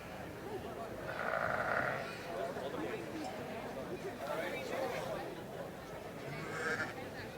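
Sheep bleat in bursts from the pens at the Royal Highland Show in Scotland, where many breeds are being judged, with a steady murmur of crowd chatter and show-ground hubbub underneath.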